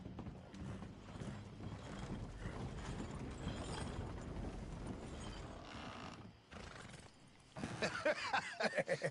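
Hooves clip-clop steadily as a horse moves along in Red Dead Redemption 2, quiet and mid-distance over a muffled background, with a brief lull before sharper rattling sounds close the stretch.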